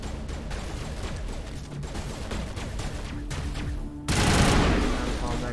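Dense video game gunfire in Mass Effect, a rapid rattling fusillade with scattered blasts that ends in a louder explosive burst from a thrown grenade, harsh and close throughout.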